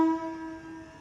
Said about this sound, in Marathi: बघा ट्रेन निघाली.